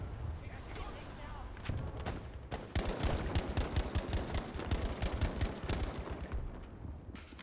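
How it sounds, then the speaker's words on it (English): Rapid automatic sniper rifle fire in a shooter video game: a dense string of sharp, loud cracks and booms, close and fast-paced, with other battle noise around. "This weapon is pretty much an auto sniper."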